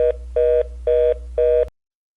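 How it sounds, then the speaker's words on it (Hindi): A phone call fails to connect and returns a busy signal: four evenly spaced electronic beeps, each about a quarter second long, with equal gaps between them. The beeps are clear and steady, then stop abruptly, leaving silence. "पता नहीं फोन क्यों नहीं मिल रहा, बार बार बिजी ही दिखा रहा है"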